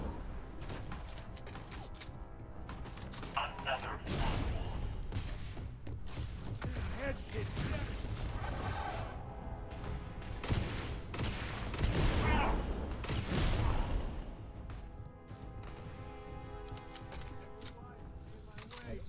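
Gunfire in the sci-fi video game Starfield during close-range combat, with bursts of shots and thuds spread across a busy stretch and the loudest cluster near the middle, set over a continuous bed of game sound and music.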